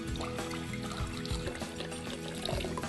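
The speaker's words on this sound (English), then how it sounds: "Let me add some water first." Water is poured into a flower vase in a steady, continuous stream with a gurgling, hollow resonance, close and fairly loud throughout, with no talking.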